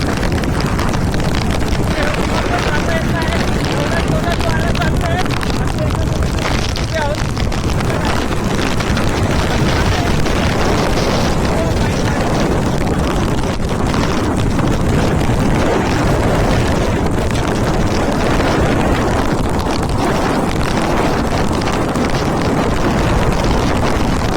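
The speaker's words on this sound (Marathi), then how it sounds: "बाहेर सोसाट्याचा वारा सुटला होता" Strong wind gusts hard and without a break at the exposed Visapur fort, a loud, rough, wind-buffeted roar that fills the whole stretch alone with no pause.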